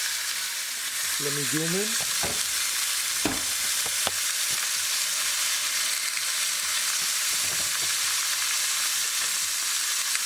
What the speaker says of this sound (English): Just place your lobster tail on top of it, just like this.